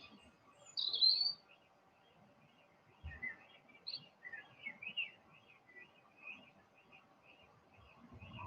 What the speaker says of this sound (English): the robin in the tree. It's been there all day long, singing away to its heart's content.